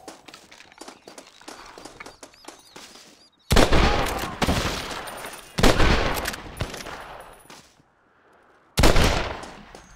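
Gunfire in Red Dead Redemption on PC comes as loud, repeated volleys of shots in several sharp bursts, separated by quieter stretches of background game sound.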